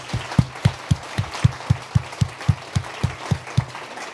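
A conference audience gives a quick round of applause, heard as a sparse series of about fifteen distinct, evenly spaced claps at moderate volume rather than a dense crowd roar.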